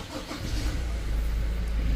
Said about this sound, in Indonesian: menyalakan mesin dieselnya ini